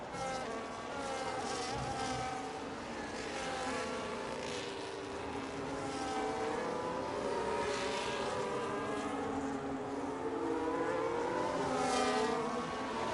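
Formula One race cars in a Singapore league race on an F1 video game, engines screaming at high pitch as they launch and accelerate, overlapping whines sweeping up and down loudly and continuously with no talk.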